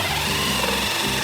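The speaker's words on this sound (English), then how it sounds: "Can you hear the sound of the drill making the plug hole?" Power drill cutting the plug hole in a bath at a factory, a loud continuous whirring grind up close for about a second with a slight pulsing texture.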